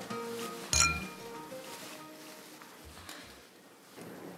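Glasses clink once, sharp and close, in a toast during a casual drink between two people. A soft, low room murmur lingers afterward.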